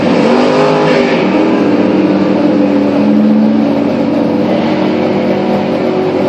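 Loud, roaring drag racing cars launching down the strip at full throttle, one with a 565 big-block Chevrolet engine and one with a 406 cubic inch engine, a steady, powerful drone that barely changes pitch across the whole stretch.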